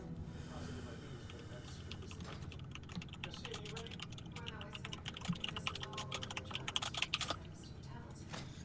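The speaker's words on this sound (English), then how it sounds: "What are you typing, Bobble?" Steady keyboard typing runs throughout at a moderate distance, with a low background hum and brief bursts of voice chatter layered over the clicking.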